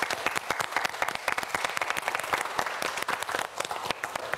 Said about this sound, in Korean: 강평 학생 앞으로도 공부 열심히 할 수 있게 여러분 큰 박수 부탁드립니다.